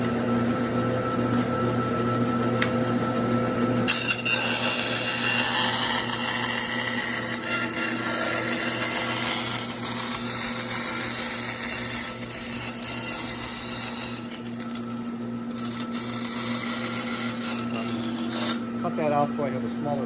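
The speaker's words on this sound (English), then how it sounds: "I've got my bandsaw all ready to go." A bandsaw cuts a piece of wood for Takamine guitar sides in a workshop, its steady motor hum joined by a brighter, harsh cutting whine through the middle of the stretch, fairly close and loud with no talking.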